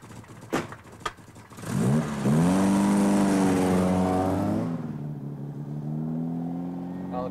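A car starts up and drives off in a 1978 Norwegian comedy film, beginning with a few sharp knocks and then a loud engine revving and rising in pitch before it settles into a steady, fading drone.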